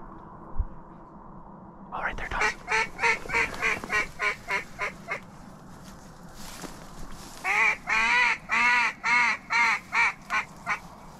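Wild ducks call in a mountain duck-hunting area, first a rapid run of quacks, then a slower series of loud, evenly spaced nasal calls, close by in an open outdoor setting.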